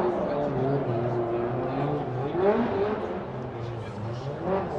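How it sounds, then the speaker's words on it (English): A Formula Drift race car warming up its tires at a 2015 final four event, a steady droning engine with wavering revs heard beneath continuous commentary. "as Frederick Osbo warms up his tires"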